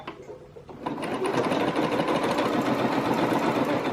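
Sewing machine fitted with a walking foot stitching knit fabric: after a brief quiet start, a close, steady, rapid mechanical whirr runs continuously to the end.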